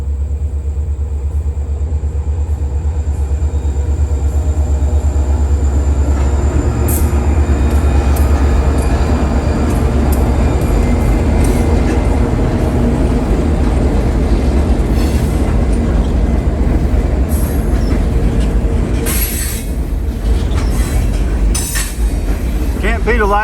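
A freight train led by a lash-up of several locomotives, including a blue one, pulling a long ethanol train, rolls past with a loud, steady rumble and a clickety-clack of rail cars, with brief wheel squeals near the end.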